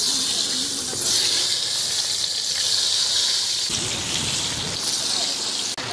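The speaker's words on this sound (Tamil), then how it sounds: "முட்டையை போட்டு பிரட்டி எடுத்துக்கலாம்" Eggs sizzle in hot oil seasoned with turmeric and chili powder as they are tossed, a steady close hiss running throughout with voices faintly beneath it.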